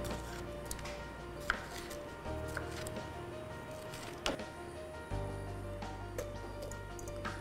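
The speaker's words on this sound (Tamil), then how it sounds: "இதையும் ஆப்பிள் மாதிரியே க்யூப் க்யூபாக நறுக்கிக்கலாம்" Sharp knife taps strike a cutting board in an uneven series as a bell pepper is chopped into cubes, some louder than others, over a low background hum.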